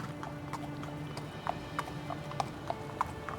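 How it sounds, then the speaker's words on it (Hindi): A prince's horse clip-clops away at a steady trot, its hooves knocking crisply in an even rhythm over a low background hum, with a faint whinny-like tone. "तभी राजकुमार सूर्यदेव अपने घोड़े पर सवार हुआ"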